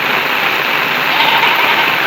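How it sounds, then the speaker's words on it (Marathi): Heavy rain pours steadily in open countryside near a hill fort, a dense, continuous hiss with no breaks and no voices. "खूप जोराचा पाऊस आला मित्रांनो."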